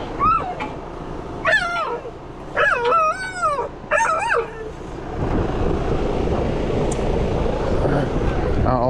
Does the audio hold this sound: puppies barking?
yes